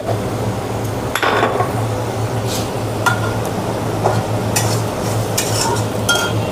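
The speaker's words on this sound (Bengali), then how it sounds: "তো এটা প্রায় 3-4 মিনিট মতো কষে নিতে হবে।" Tomato masala with salt and red chilli powder cooks in a pan, a steady low sizzle running throughout with intermittent scraping and clinks of a spatula stirring against the metal, close and moderately loud with no talking.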